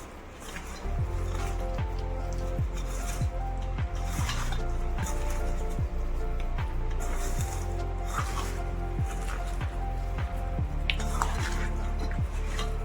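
Water is poured into a mango pickle mixture for a watery summer avakaya, making a steady continuous splashing pour close by with faint, regular clicks underneath.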